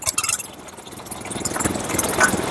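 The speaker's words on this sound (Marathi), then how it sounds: "लिव्हर सुटला, इंजिन चालू राहणार." Petrol power weeder engine running close by, a steady, slightly uneven mid-pitched chug with rattling vibration that grows a little louder toward the end, with no talk over it.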